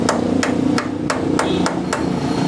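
A hammer strikes around a jammed screw on a Honda CD70 carburetor, with seven sharp metallic taps at an even, moderate pace over a low background hum.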